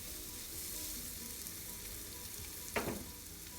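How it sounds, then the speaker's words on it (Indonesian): Garlic and onion sauté in a pan with a silicone spatula, a steady close sizzle of frying throughout, with one brief scrape or stir near the end and no voices. "Tumis bawang putih dan bombay sampai benar-benar layu dan harum."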